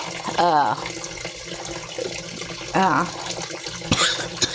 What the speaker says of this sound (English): I forgot to turn my water off